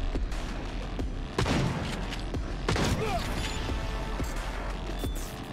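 Gunfire in Cyberpunk 2077 cracks out in several sharp, loud shots and bursts spread across a few seconds, layered over busy mechanical game noise and impacts.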